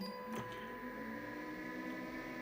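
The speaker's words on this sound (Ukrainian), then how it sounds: "вентилятор тепер без того страшного звуку, хоча звуки специфічні" A repaired AllPowers 2000 portable power station's cooling fan runs in a faint, steady whir with a thin tonal hum and a brief click near the start.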